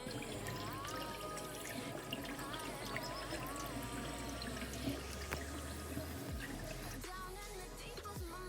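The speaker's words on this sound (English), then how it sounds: "So we're gonna flush it out with some water" Water pours and splashes steadily through a rusty motorcycle radiator being flushed out, with gurgling and trickling throughout, fairly quiet and close, with a few knocks near the end.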